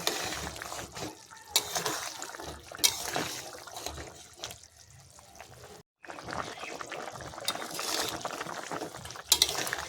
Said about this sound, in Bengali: ঢাকা দেওয়ার থালাটা আমি তুলে নেব তুলে নিয়ে একটু নাড়িয়ে দিলাম